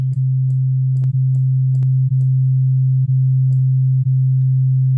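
Two steady sine tones shifted in phase form one pure low hum that holds constant and loud, broken by faint regular dips and a few soft clicks.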